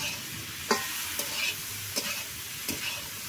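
Curry cooking in a pot over a wood fire, a soft continuous bubbling sizzle broken by a few sharp clinks and stirs of a utensil against the pot.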